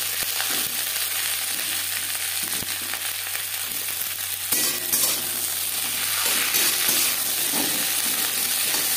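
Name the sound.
stirring beans frying in mustard oil over medium flame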